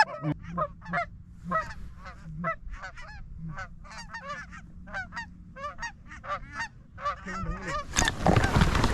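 A flock of Canada geese honks over decoys during a goose hunt, with many overlapping calls in quick bursts. The honks are loud and close, followed near the end by a sudden broad blast of noise.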